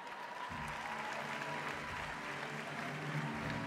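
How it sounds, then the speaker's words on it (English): Awards-night theatre audience at the Helpmann Awards applauding actor Tim Draxel, steady dense clapping heard fairly quietly and at a distance, with no talk over it. "Please give him the clap"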